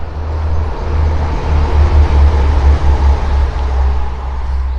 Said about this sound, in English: Are the train noises adding to the realism?